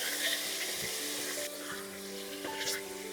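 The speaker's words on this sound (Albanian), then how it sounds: "Llojçet me skuqjen e mishit në fillim, pastaj me të tjera." Beef sizzles steadily in a pot for traditional Albanian çomlek with onions, a dense, close frying hiss with faint stirring scrapes.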